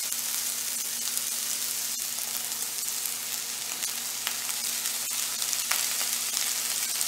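Steady, close sizzling and crackling of sausage, onions and spinach frying in a pan, with occasional small pops and no talking.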